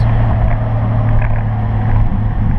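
A Toyota Supra with a 1JZGTE engine pulling at full throttle from 2,000 RPM, a loud, steady low-pitched engine drone with heavy rumble and some wind noise, heard close up without speech.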